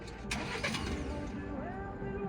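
A broken-down Ford Ranger truck is cranked over, its engine churning roughly and continuously without catching, close and fairly loud, with a faint voice underneath.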